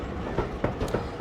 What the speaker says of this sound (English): Just the clunking of the wheels, coasting of the coaches.